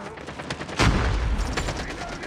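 Gunfire crackles in a Call of Duty 10 v 10 match. One loud burst lands near the middle, with lighter shots before and after it, close and dense.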